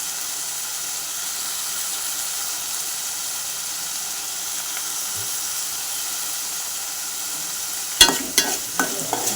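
Ingredients for fish pickle fry in a pan with a steady hissing sizzle that holds throughout, and near the end a spoon scrapes and stirs them in a few loud, close clattering strokes.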